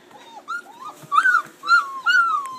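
Hungry puppies whimper while their food warms up, a series of high, rising and falling whines and yips close by, coming in several overlapping bursts.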